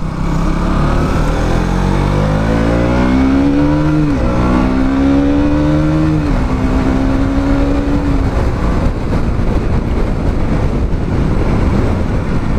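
A KTM Duke 200 motorcycle downshifts with engine braking, loud and close, the engine note sliding down in pitch between gear changes, then settling into a steady drone over wind roar.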